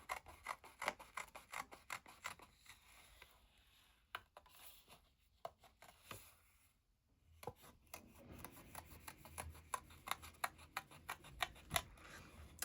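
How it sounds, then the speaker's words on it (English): Scissors cutting a stamped image out of paper: a long run of quick, close, crisp snips and paper rustles in an uneven rhythm, broken by a brief pause midway, with no talking. "I'm going to cut this out."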